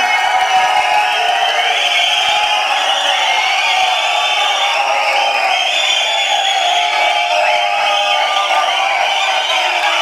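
A large crowd at a Tamil film audio launch event roars and cheers continuously, a dense, loud, distant-sounding wash of shouts and whoops with possible applause mixed in, lasting throughout.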